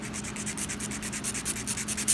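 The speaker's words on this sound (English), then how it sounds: "So I'm just going to file that." A nail file works back and forth over acrylic nails in quick, even strokes, a close, dry scratchy rasp repeating about six times per second.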